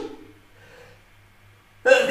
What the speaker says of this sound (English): And once again, I have to sneeze.